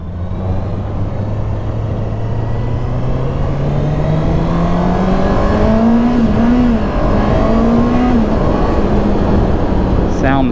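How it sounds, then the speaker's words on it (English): A 2019 Honda CBR650R inline-four motorcycle engine pulling hard at close range, its high whine climbing steadily in pitch through the gears, with a short dip and recovery midway, over loud wind rush. "It's you know, inline 4. It's a high horsepower displacement motorcycle."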